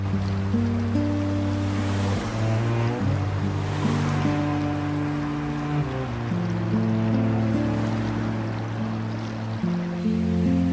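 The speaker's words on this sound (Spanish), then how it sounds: "las aguas del mar Tirreno penetran con furia en la base de un desfiladero de piedra caliza" Tyrrhenian Sea waves surge into the base of a limestone gorge in a natural fjord-like inlet, a steady rushing wash of surf under sustained, slowly shifting music, with no voices.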